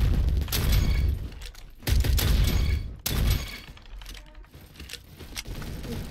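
In the shooter game Bad Business, a flashbang grenade goes off in loud, crackling bursts with a shattering quality, several sharp blasts trailing into a scattered rattle of debris and gunfire.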